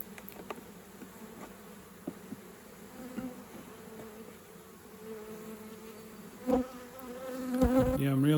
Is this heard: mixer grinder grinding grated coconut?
no